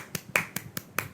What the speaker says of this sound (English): you can have virtual claps on, please, and hear out the applause